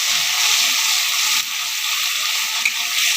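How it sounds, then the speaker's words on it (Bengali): Tomato paste frying and being stirred in a pan for chana dal, giving a loud, steady close-up sizzle and hiss throughout with a brief faint scrape, no voices. "আর দেবো পেস্ট করে রাখা আমার এই টমেটো বাটাটা। দিয়ে এটাকে এবার একটু নাড়ব।"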